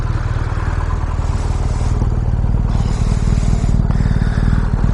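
A BMW motorcycle engine rumbles loud and close inside a garage, a steady, throbbing idle with occasional faint clattering.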